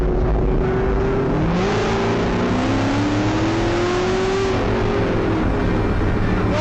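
Car engine revving and pulling hard, a loud continuous drone that rises and falls in pitch as it accelerates, close and dominant, with no talk over it.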